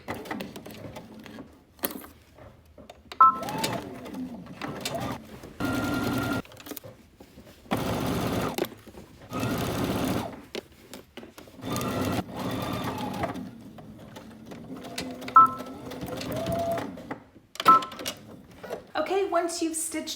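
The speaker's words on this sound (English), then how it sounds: "Now you're gonna go to your sewing machine." A sewing machine stitches a fly with a 5/8 inch seam allowance in several bursts of rapid mechanical stitching, with a person talking in the pauses between runs.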